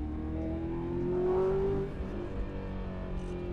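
A new sports car with a paddle-shift gearbox accelerates hard, its engine note climbing in pitch to a peak, then easing off to a steadier drone, heard fairly close.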